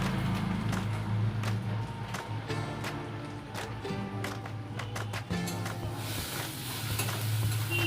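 Onion, ginger and garlic frying with cumin powder in a pan for a raw jackfruit and prawn curry, a low continuous sizzle under repeated sharp scrapes and taps of a stirring spoon.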